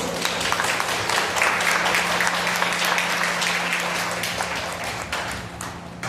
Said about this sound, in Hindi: उस परमेश्वर के लिए ताली तो बजा दो।